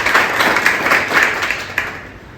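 Applause from an audience at a Vestige meeting, a dense continuous wash of many hands clapping that stays loud throughout, with a few sharper individual claps standing out near the end.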